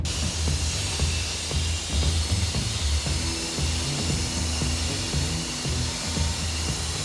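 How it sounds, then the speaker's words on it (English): Belt grinder with coarse 24 and 80 grit belts polishing steel armor, a loud continuous rushing hiss with a low motor hum and uneven scraping bursts as the metal is pressed to the belt, no talking. "we've just finished doing an initial pass with 24 grit and then 2 belts of 80 grit just to get it to this stage of smoothness and shininess"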